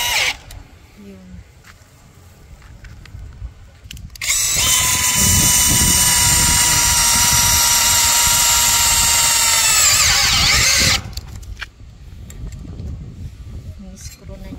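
A power drill drives in a screw, whining loudly and steadily for about six seconds close by, with quieter voices and shuffling before and after.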